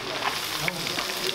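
Noodles frying in hot oil for roadside Chinese bhel produce a continuous close sizzle with crackling pops, heard alone.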